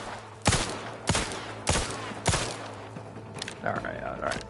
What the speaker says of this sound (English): I'm shooting it.